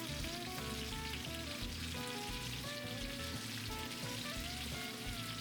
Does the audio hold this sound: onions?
yes